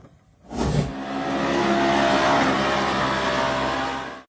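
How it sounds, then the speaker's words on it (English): A white pickup truck revs hard at full throttle on an off-road dirt course, the engine roaring up sharply after a brief burst and holding a loud, sustained growl before cutting off abruptly. "The white pickup truck accelerated at full throttle toward a high mound of earth"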